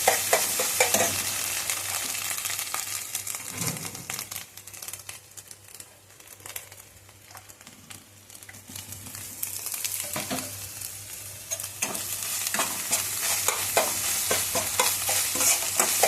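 Bay leaves, cinnamon, cardamom and cloves fry in hot oil for mixed fried rice, a quiet steady sizzle broken by scattered crackles and stirring scrapes, heard close with no talking.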